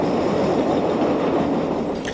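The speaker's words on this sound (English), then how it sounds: "Most services are in the hands of these French-built 1200 class diesels" Portuguese Railways French-built 1200 class diesel train in a sparsely populated rural area, heard as a steady, loud rumble and rattle of rolling stock throughout, with no speech.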